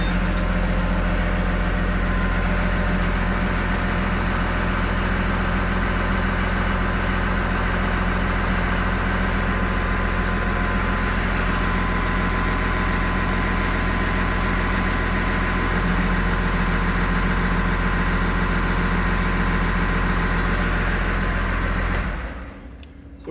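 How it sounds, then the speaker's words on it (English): A Caterpillar IT28G wheel loader's engine runs at a steady idle, a loud, constant diesel drone with a deep low hum that holds unchanged for over twenty seconds before cutting off abruptly near the end. "I'm just going to start up the engine"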